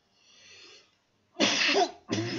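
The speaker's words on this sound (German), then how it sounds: "ich entschuldige mich wegen der Husterei" Two harsh, loud coughing bursts from a man who has the flu, each one abrupt and close. They come after a quieter stretch of soft background sound.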